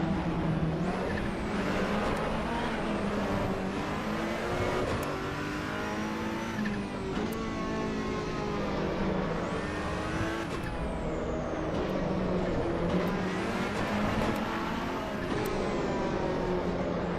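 A Ferrari race car engine roars in the racing game Assetto Corsa Evo, rising and falling through gear changes as it revs hard, with continuous loud engine drone and occasional tire noise throughout.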